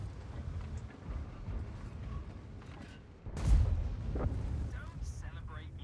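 In World of Tanks, a shell fired by a Grille strikes the armor of a Pz.Kpfw. VII and bounces off with one heavy, booming impact midway through, over a constant low engine rumble, with a voice talking.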